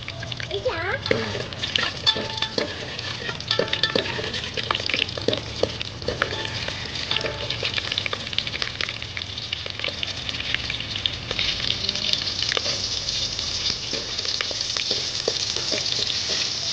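Whole biryani spices such as cinnamon, cloves, shahjeera, cardamom, pepper, marathi moggu, star anise, mace and bay leaf fry in a pan with a dense, continuous sizzle, loud and close, with occasional utensil clinks and faint voices in the background.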